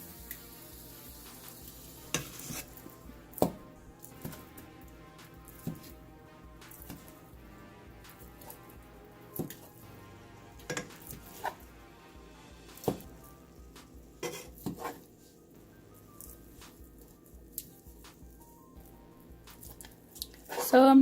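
Ground meat sizzling and frying in a pan for an easy Rotel dip, with scattered sharp clicks and scrapes of a utensil breaking it into smaller pieces over a steady low crackle.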